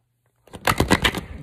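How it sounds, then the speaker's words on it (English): Tarot cards are shuffled briefly and close up after a moment of silence, a quick burst of crisp riffling snaps that fades within about a second, with no voices. "one more shuffle."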